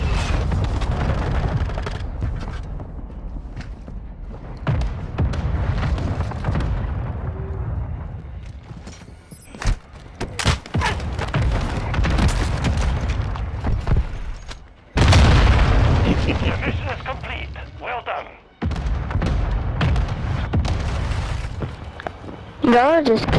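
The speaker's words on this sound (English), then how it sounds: "Friendly mortar strike on the way." Friendly mortar strike in Modern Warfare II, a run of heavy booming explosions landing one after another with brief gaps, loud and close, mixed with game chatter and players talking.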